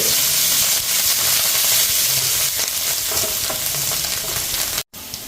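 Curry leaves and coriander frying in hot oil for a mussel roast. A loud, dense sizzle crackles continuously at close range, cutting out abruptly for a split second near the end.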